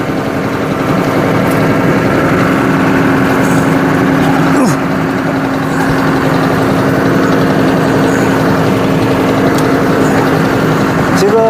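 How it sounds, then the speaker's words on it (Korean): Tractor engine idling steadily with a constant mid-low hum and faint mechanical clatter, loud and close, while someone talks over it. "일단 트랙터 시동을 걸고요"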